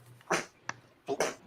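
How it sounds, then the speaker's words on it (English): Several sneezes in a sneezing fit during an indoor build session: two strong, close bursts with a smaller sharp catch between them. "little bit of a sneezing fit."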